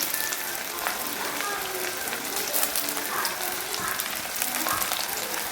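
Onions sautéing in hot oil for a chicken curry with Annapoorna masala give a steady, close, dense sizzle and crackle that holds evenly throughout with no talking.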